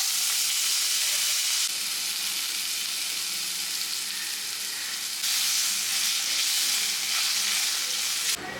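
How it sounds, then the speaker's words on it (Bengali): Potatoes frying in hot oil for a Bengali tangra fish dish: a loud, steady crackling sizzle with constant hiss, heard close up and alone, swelling slightly at moments as the pieces are stirred. "আলুগুলো এখন ভেজে নেব।"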